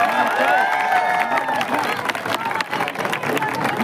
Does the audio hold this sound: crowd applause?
yes